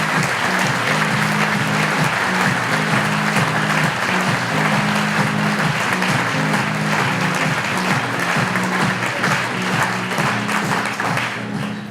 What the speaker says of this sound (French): Je crois que nous pouvons vraiment applaudir Charles-Louis d'Orléans.